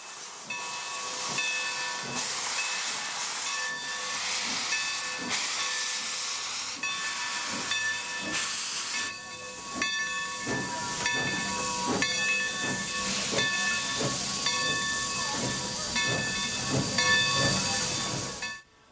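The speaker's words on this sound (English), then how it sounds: "The steam that is created in the boiler is used to run the locomotive and pull the train." An oil-fired Texas State Railroad steam locomotive, number 316, hisses loudly with steam in continuous bursts, broken by rhythmic puffs and faint whistle-like tones, nearby and without voices.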